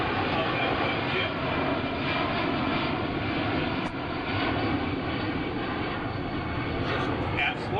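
A C-17 Globemaster III military transport jet flying slowly at an air show open house, its engines producing a steady, loud, broadband roar that holds throughout without a break.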